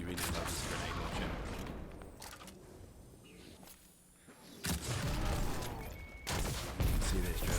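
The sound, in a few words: grenade launcher firing and chain explosions in Destiny 2 video game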